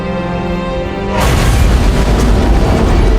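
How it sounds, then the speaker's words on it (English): Antimatter charge explosion in the video game Halo, a sudden heavy boom breaking over a steady hum and rolling into a loud, sustained rumble. "It must have been one of their boarding parties. I'd guess an antimatter charge."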